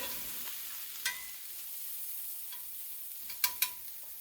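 Vegetables sauteing in a skillet for meatloaf, a steady soft sizzle with a few brief stirring clicks and scrapes, no talk.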